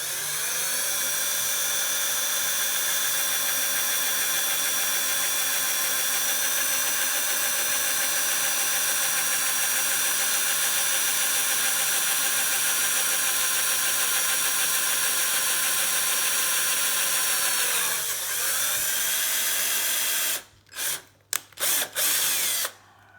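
A drill boring into a vintage quick release skewer with a sustained high whine and steady overtones that dip briefly near the end, followed by a few short bursts and pauses.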